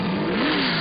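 A Dutch Supercar Challenge race car with a huge engine of over 700 horsepower revs steadily and loudly close by, its pitch rising and then easing back in one continuous sustained note.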